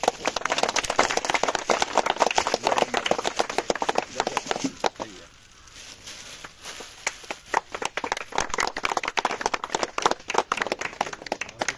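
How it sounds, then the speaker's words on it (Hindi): A crowd claps at a mahayagya gathering attended by a JD(U) politician, a dense and loud patter of hands that briefly thins to a lull midway before swelling again. "ताली बजाओ"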